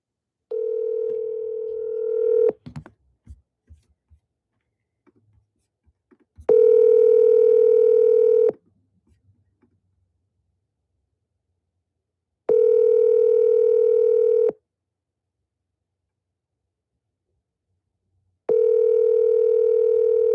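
Telephone dial tone during a call to a disconnected number, a steady electronic tone repeating in four long bursts of about two seconds each, separated by silences of several seconds, with brief clicks near the start.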